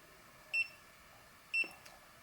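A Xiaomi Mi 1S electric scooter beeps at startup, two short high electronic beeps about a second apart, clear and close in a quiet room.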